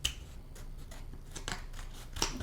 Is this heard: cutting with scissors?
yes